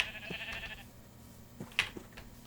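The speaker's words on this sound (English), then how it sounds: "There indeed is a pink sheep." A pink sheep in a video game bleats a few faint, short times over a quiet background hum, with no talking.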